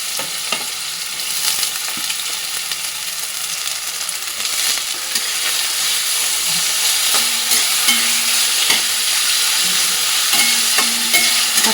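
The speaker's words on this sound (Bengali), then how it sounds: "এবার গাজরটাকে আগে ভেজে নেব" Carrot strips frying in oil in a wok-style kadai, a steady loud sizzle throughout with repeated scraping strokes of a spatula stirring the pieces, growing slightly fuller in the second half.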